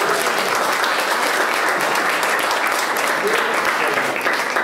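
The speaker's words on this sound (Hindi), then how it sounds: "इस पर जोरदार ताली बजनी चाहिए।" Students in a hall applaud at a motivational talk show for CA Inter candidates, a loud, continuous burst of many hands clapping that holds steady throughout.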